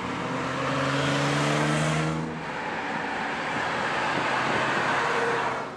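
A 1982 Mercedes SL500 R107 with a 5-liter V8 drives along, its engine drone holding steady and fairly loud, a tonal hum easing after two seconds into broad road and tire rush, with no talk.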